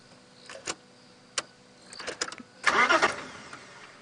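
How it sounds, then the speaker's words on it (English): Safari vehicle engine starting outdoors at sunrise, a few short starter clicks and cranking attempts before the engine catches with a louder rising burst and settles, near and fairly clear. "I'm trying to start the car."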